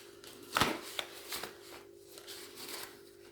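Paper banknotes handled and slipped into an envelope, a few close, crisp rustles and flicks, one sharper burst near the start, in a quiet room.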